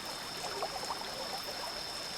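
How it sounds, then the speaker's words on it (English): Faint, steady flow of river water with a soft trickling texture, continuous and distant, alone with no voices, and a thin constant tone above it. "The rushing water took the boat into the middle of the river."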